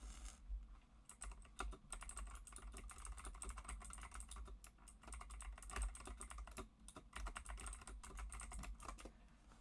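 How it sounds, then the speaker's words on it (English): Rapid, continuous clicking of keys on a computer keyboard, close and fairly quiet, with an uneven typing rhythm and no voices. "I love the sound of my new keyboard"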